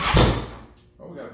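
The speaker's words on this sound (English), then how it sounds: "Oh, we got a backfire." A Suzuki DR-Z400SM motorcycle engine with a 434 big-bore build lets out a single sharp, broadband backfire pop close by. A brief voice follows.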